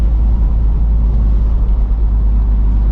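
A Smart ForTwo 451 drives with its roof open, giving a loud, constant low rumble of engine and wind buffeting with a steady texture throughout and no talking.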